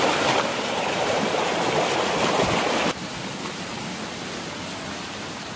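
A clear river stream runs beside the hiking trail on Mount Salak via Pasir Reungit toward Kawah Ratu, giving a steady broad rushing of water that drops abruptly to a softer level midway, with no voices.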